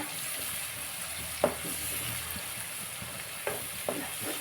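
Onions softening in a pan for an eggplant curry give a low, steady sizzle with a few sharp clacks from stirring, heard alone at a modest level.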